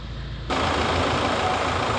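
Hyundai Santa Fe diesel engine idling in the engine bay, a loud, steady low rumble that jumps up in level partway through and then holds even, close and alone.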